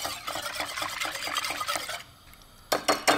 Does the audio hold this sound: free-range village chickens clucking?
no